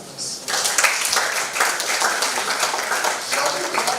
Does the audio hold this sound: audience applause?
yes